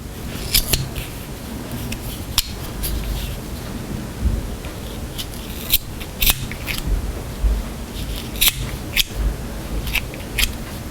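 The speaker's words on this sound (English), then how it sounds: "And then you trim the edges." Scissors trim the yarn edges of a crocheted bunny toy, with crisp, separate snips at irregular intervals over a steady background hiss.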